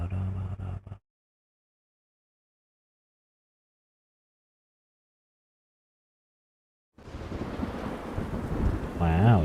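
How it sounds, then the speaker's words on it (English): Heavy rain and a deep rumble of thunder in the video game The Witcher 3 swell in after a long silence, loud and close, preceded by a brief burst of other sound. "Wow, it's raining here"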